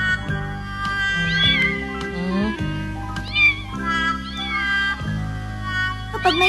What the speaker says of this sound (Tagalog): Pag may pinapanganak na pusa, palagi na lang dito nila itinatapon.